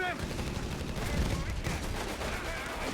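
Folkvard troops open fire from ambush on riflemen in Company of Heroes 3, a steady dense rattle of gunfire and battle noise running throughout, with a voice talking over it.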